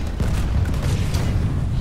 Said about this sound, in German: Panzer hat einen schweren Schuss